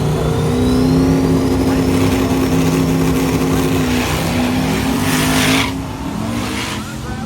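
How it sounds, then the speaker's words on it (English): A drag car running a 427 cubic inch LS engine with a pair of small turbos launches hard at Northern Michigan Dragway, its loud steady engine drone holding close before fading as it pulls away down the strip. "a brand new engine combination for Kevin Parton. It is 427 cubic inches of LS combo with a pair of pretty small turbos on it"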